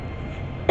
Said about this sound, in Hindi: अरे भैया थोड़ा आराम से बनाइए, खांसी आ रही है, तड़का ज़्यादा लगा दिए।